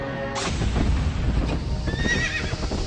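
A horse neighs loudly in a long whinny while hooves clip-clop steadily underneath, close and prominent throughout.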